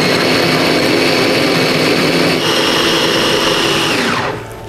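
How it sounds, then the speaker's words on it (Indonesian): An Ideal Life IL216 electric chopper blends spice paste with oil and a little water, a loud, steady whirring motor running continuously up close, then winding down at the end. "Dan kita chop sampai halus."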